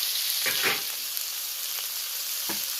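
Crushed garlic dropped into hot oil gives a continuous bright sizzle, with a few soft stirring bumps under the steady hiss, close and moderately loud.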